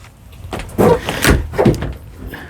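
After its latch is undone, a generator enclosure door is pulled open with a few close, loud clunks and scrapes of metal panel handling over about two seconds.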